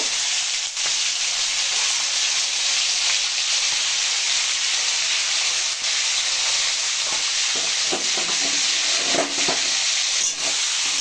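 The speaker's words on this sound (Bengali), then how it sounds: "এবার ওই তেলের মধ্যে আমি এখানে চিংড়ি মাছ হালকা করে ভেজে নেব" Shrimp frying in hot oil in a pan for a cauliflower and prawn dish: a loud, steady sizzle and hiss close up throughout, with faint stirring clatters toward the end.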